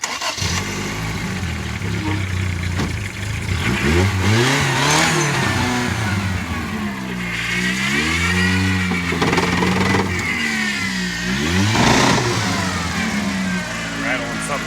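An old Toyota Tercel 4WD wagon engine revs hard and loud, its pitch climbing and sagging in long sustained swells as it strains to move, with a few sharper bursts along the way.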